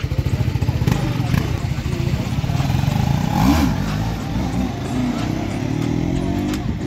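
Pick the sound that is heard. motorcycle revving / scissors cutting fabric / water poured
motorcycle revving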